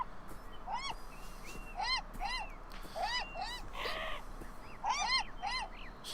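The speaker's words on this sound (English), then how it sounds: "The seagulls float around the bread, gobbling it up greedily." Seagulls crying in the video game Beyond Eyes, repeated sharp rising squawks from several birds in quick bursts over a faint background.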